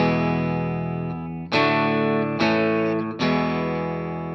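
Electric guitar strums open-position chords from a song, a few full sustained strums with slight drive, each new chord struck crisply after a brief gap, with no voices.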